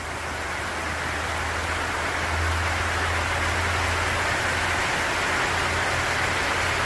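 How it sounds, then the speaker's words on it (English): Rain falls on a winter morning in Queensland as a steady, even hiss of dense drops, continuous and fairly close, with a faint low rumble underneath and no voices. "it's raining again in sunny Queensland"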